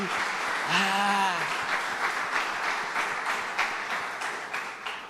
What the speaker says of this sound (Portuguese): dá mais um aplauso para ele.